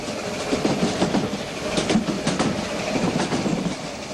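A Mallet tank locomotive hauls a train along a narrow-gauge line through vineyard and olive country, wheels clacking rhythmically over rail joints with a continuous rumbling roll and occasional brighter clanks, fairly close.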